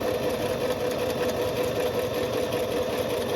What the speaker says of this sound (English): I'm gonna go to the sewing machine and start on that